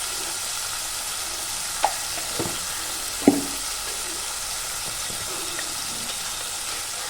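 Spice masala for a vegetarian jackfruit curry sizzling in a pan while being stirred: a steady, moderate frying hiss with a few sharp spoon scrapes and clinks against the pan.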